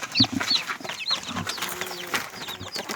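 A hen clucks close by among newly hatched chicks, whose high thin peeps keep coming in quick, overlapping bursts over soft farmyard background.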